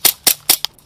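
Airsoft guns fire four sharp, close, loud snapping shots in quick succession at an outdoor airsoft game, with no talking.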